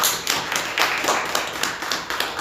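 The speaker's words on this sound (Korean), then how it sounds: "다시 한번 환영의 박수 부탁드립니다." A church congregation clapping in welcome during a New Year Sunday morning service, brisk continuous clapping from a group with irregular sharper claps standing out, close and steady.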